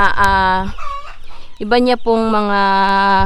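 A Shamo chicken clucks and crows close by in a loud, harmonic call, then breaks off briefly and repeats it.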